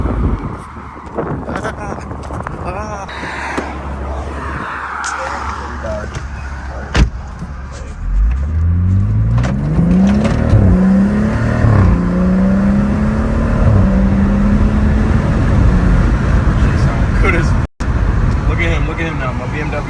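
A 2015 BMW 335i with a catless downpipe and muffler delete, its exhaust rising into a loud, deep revving drone that climbs and holds, with wind buffeting and people talking near the car.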